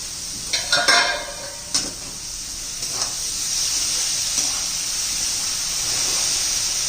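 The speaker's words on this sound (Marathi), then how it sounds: "छान अशी मऊ अशी भिजलेली आहे हे सुकट आता मिक्स करूया" A few sharp clinks and scrapes come first, then a steady soft hiss as soaked, softened dried shrimp (sukat) is mixed in a pan for chutney. The sound is close and moderately quiet.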